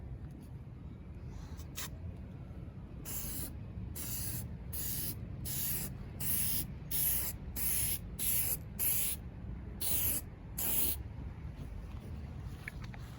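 Clear coat sprayed from an aerosol can onto a restored car headlight, a series of about ten short hissing bursts in quick rhythm after a faint earlier puff, close over a quiet background.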